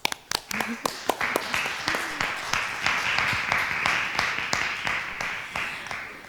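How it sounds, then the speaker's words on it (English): Dense, steady audience clapping follows the introduction of the panelists at a multicultural and diversity center symposium and grand opening, sustained for several seconds at close range. "Give them a round of applause"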